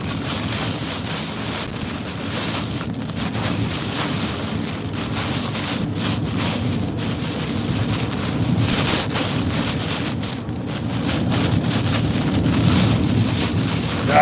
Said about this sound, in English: that wind's crazy